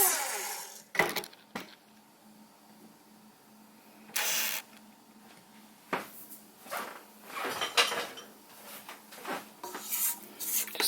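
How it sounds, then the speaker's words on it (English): A spatula scrapes the sides of a mixing bowl of Madeline cookie batter in a home kitchen, giving scattered soft rubbing and clinking strokes at close range, with short quiet gaps between them. "I am going to get a spatula and I'm going to scrape those sides."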